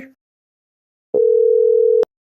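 A single steady electronic phone tone in a cartoon, a call going unanswered, sounds loud and clean for just under a second after a brief quiet gap, then cuts off abruptly.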